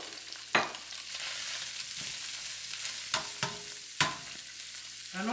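Carrot goes into a hot pan with beef and cabbage, giving a continuous frying sizzle broken by several sharp clatters and scrapes of stirring, with no talking.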